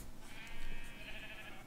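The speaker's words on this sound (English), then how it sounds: "And the sheep are ridiculous." A Minecraft sheep gives a single drawn-out bleat, moderately loud and clear over a quiet background.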